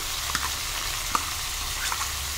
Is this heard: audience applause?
no